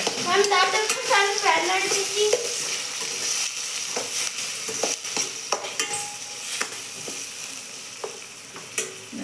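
Food frying in a pan over high gas, a continuous sizzle with frequent stirring scrapes and clinks, close by, while people talk over it.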